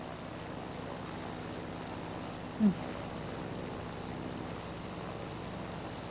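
A Spitfire's piston engine drones evenly in a flight simulator set over Alaska's Kodiak Archipelago, a moderate sustained hum with one brief soft bump midway and no speech.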